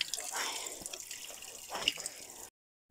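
Water runs from a public drinking fountain outdoors, a steady splashing hiss with bursts as the flow changes, then cuts off abruptly near the end.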